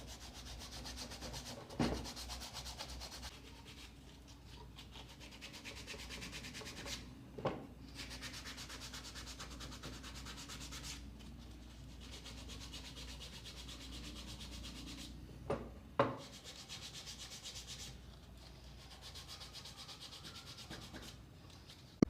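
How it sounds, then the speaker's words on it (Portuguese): Wood being hand-sanded for a carved rustic diamond, with sandpaper wrapped around a rasp: steady, close rasping rub strokes sweep back and forth, punctuated every few seconds by a sharp knock or tap. "Fica até mais fácil do que você lixar com a mão."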